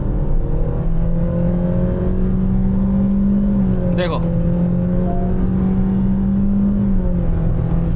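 Honda Amaze with CVT gearbox in sport mode holding first gear, its engine droning steadily at high revs with a brief dip as the pitch shifts, heard from inside the car with a voice speaking briefly.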